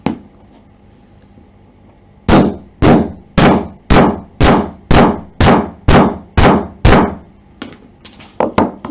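After a quiet moment, a hammer strikes a snap-setting tool about a dozen times in a steady rhythm, fastening a snap into fabric, each blow a sharp, loud, close thud, ending with quicker lighter taps.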